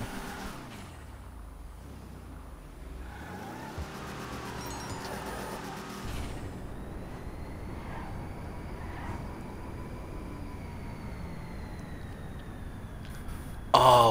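A car in a video game, fitted with F1 tires, drives with a continuous engine drone and road rumble that shifts in pitch as it accelerates, ending in a brief louder burst.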